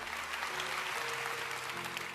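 An audience applauds with dense, continuous clapping at a moderate distance, sustained evenly over a couple of seconds.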